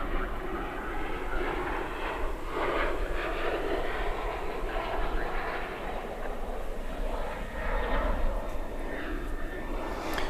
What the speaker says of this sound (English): the planes are so teeny tiny on our screen as they take off to the north